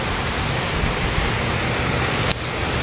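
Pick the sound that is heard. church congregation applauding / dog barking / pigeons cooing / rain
rain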